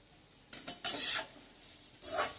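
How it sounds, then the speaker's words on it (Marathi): Grated suran yam being sautéed in ghee in a kadhai: a few short scraping stirs, then louder bursts of sizzling and spatula scraping, with no talk. "हे असं छान परतून घ्यायचंय"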